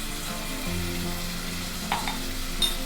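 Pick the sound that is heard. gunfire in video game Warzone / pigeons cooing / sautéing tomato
sautéing tomato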